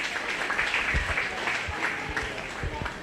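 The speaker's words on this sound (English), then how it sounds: "Give him a big round of applause." A crowd at a 4-H/FFA goat show applauds a young exhibitor, a moderate, steady round of clapping with some voices mixed in.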